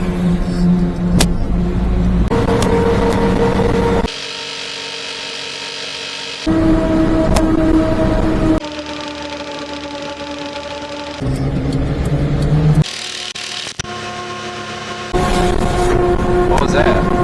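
A Daihatsu-engined mini-truck drives along, its small motor droning and buzzing steadily with shifting pitch, broken by abrupt cuts between louder and quieter stretches of engine noise.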